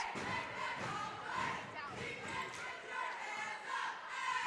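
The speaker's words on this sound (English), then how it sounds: "Nice crowd here tonight at South Brunswick. Making some noise for their Cougars, and they should." Home fans at a high school girls' basketball game between Topsail and South Brunswick cheer for the Cougars, a steady, full crowd roar that swells and dips with occasional thuds, lasting the whole stretch.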